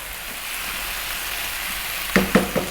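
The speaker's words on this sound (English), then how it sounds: "nice high vibrant heat, stirring pretty much all of the time" Chicken frying in a pan over high heat, with a steady close hiss of sizzling and a few sharp scrapes and knocks near the end as it is stirred.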